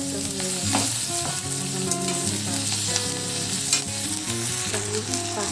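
Pasta tossed in a hot pan with boiled capsicum, beans and carrot, giving a loud, close, continuous sizzle and frying crackle, with stirring scrapes throughout.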